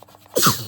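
A single sharp sneeze bursts out after a brief quiet moment, close and sudden.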